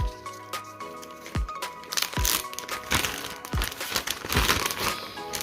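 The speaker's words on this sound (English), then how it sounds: "So I get these big Ziploc bags" Large plastic Ziploc bags crinkle and crackle as they are handled, with sharp crunchy rustles and bursts of louder crumpling, close and steady throughout.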